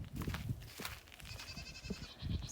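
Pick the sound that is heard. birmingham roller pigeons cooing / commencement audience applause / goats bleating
goats bleating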